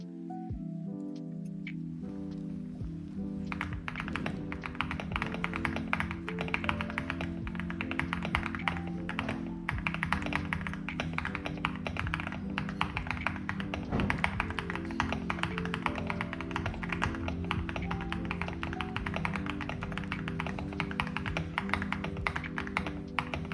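Rapid, steady typing on a Lingbao K87 Pro three-mode wireless mechanical keyboard with hot-swappable linear Leo box switches, dense close clacks with no talking.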